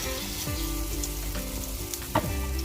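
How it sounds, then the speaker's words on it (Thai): Corn fritter batter fries in hot coconut oil in a pan over medium-low heat, a steady close sizzle and crackle with small pops and light stirring, no voices. "พอน้ำมันร้อนเราก็จะตักข้าวโพดใส่ลงทอดเลยนะคะ"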